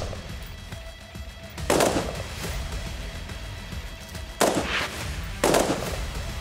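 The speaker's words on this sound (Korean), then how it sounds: "테러범 선별 사격." Sharp rifle shots ring out during a terrorist target-selection shooting drill on a range, four distinct loud cracks spaced irregularly over steady background noise.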